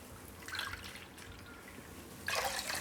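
Water poured into a pan to make sugar syrup for angoor rabdi, quiet with two brief bursts of splashing trickle, the second stronger and continuing to the end.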